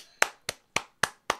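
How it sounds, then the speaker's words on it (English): One person claps their hands five times in a slow, even rhythm, each clap a sharp, close, isolated hit with silence in between. "Clapping for myself."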